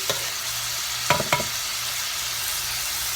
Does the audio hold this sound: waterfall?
no